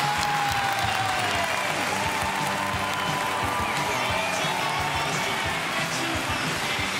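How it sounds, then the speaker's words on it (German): Sustained studio audience applause on a German TV quiz show, a dense steady clapping that fills the whole stretch at moderate loudness, with faint crowd noise beneath. "Jetzt nehmen Sie sich erstmal diesen Applaus"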